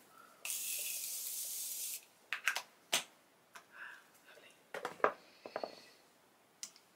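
Morphe setting spray is misted onto a face in one long close hissing burst lasting over a second, followed by scattered clicks and soft handling noises with a little quiet talk.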